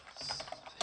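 A short burst of quick key taps on a computer keyboard while entering terminal commands, several soft clicks close to the microphone ending in a slightly louder keystroke.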